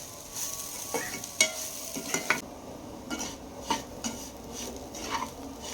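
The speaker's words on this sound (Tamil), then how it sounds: "1 நிமிஷத்துக்கு இந்த ரவாவோட சேர்த்து நல்லா வறுத்துக்கலாம்." A spoon stirs and scrapes against a pan while semolina and pineapple pieces roast and sizzle gently, with occasional sharp metallic clinks at an uneven pace.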